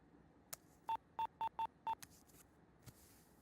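Telephone keypad dialing tones: five short, evenly spaced electronic beeps with faint clicks before and after, close and clear against a quiet room.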